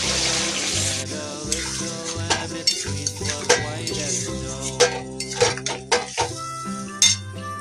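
Chicken in gravy with added water is stirred and fried in a pot, steady sizzling under frequent scraping and knocking of a spatula against the metal, the clatter close and irregular.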